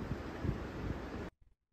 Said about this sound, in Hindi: तो आज मौसम साफ है और हवा चल रही बहुत ही तेज।